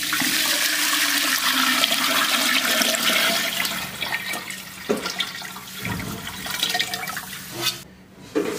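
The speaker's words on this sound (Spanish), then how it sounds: "vamos a echar el agua" Water, sixteen cups of it, is poured into a cooking pot while making juanes de gallina. It makes a loud, continuous rushing splash up close that slowly thins out and stops near the end.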